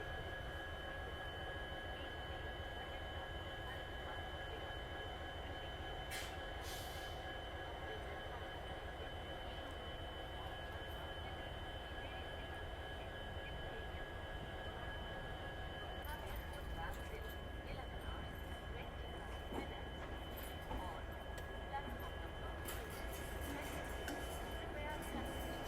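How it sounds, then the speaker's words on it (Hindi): Diesel locomotive shunting the Jodhpur Sabarmati Express at platform 1 of a station, a steady low rumble of engine and rail noise with faint clanks, a train generator car running, with a voice talking over it. "वहाँ देखिए जोधपुर साबरमती एक्सप्रेस का शंटिंग हो गया, डीजल लोकोमोटिव लेके आया"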